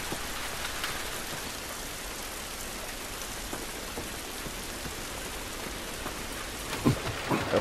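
Steady, dense rainfall pours down in The Last of Us Remastered on PS4, a constant hiss with a low thunder rumble rolling in near the end and no voices.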